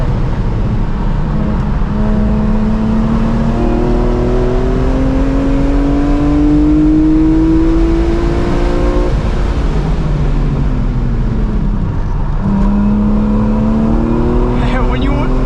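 A track-prepped 2005 BMW M3 E46 Competition with SMG gearbox accelerates hard on a racetrack, engine climbing in pitch to the rev limiter, loud and close from inside the car, with people talking over it.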